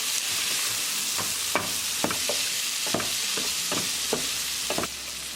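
Tilapia fish and mixed vegetables are stirred in a pan over medium gas, a steady sizzle of frying under repeated scraping strokes of the spoon, close and fairly loud with no talking.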